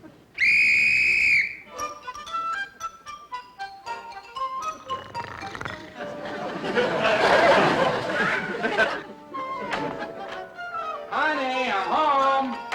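One loud, shrill whistle blast sounds alone at the start, blown to wake someone. Chattering voices and laughter follow.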